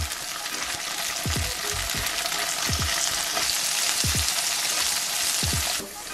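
Food sautéing in a pan with green sauce, a steady loud sizzle throughout with a few scraping stirs as pieces are flipped, ending with a brief drop in the frying noise.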